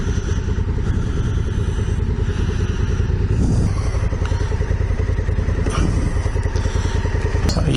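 Adventure motorcycles, a Yamaha T7 or Honda Africa Twin, ridden on the Scenic Rim, with a steady loud engine drone and rough clattering and thudding from the ground throughout, with no speech.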